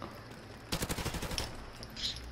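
Rapid automatic gunfire in the video game Call of Duty Modern Warfare Remastered, a short burst of close sharp shots in quick succession, followed by a fainter shot or two after a pause.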